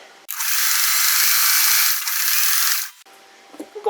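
A sewing machine chain-stitches raw-edge crazy quilt blocks in one continuous, fairly loud whirring run of nearly three seconds, then stops abruptly and leaves faint handling clicks.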